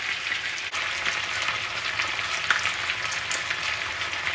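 Onions and marinade garnish fry in a pan for an Antillean coconut chicken, giving a steady, close crackling sizzle that holds the whole time and has no talk over it.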